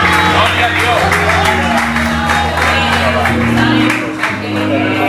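A church congregation applauds and shouts together, a dense continuous wash of clapping with scattered cheers and whoops from a large room, with voices heard speaking through it.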